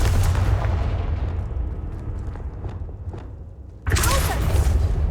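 A Confringo blasting spell goes off in Hogwarts Legacy: a sudden loud, broadband explosive burst near the end that cuts sharply into a rumbling battle din of booms and impacts.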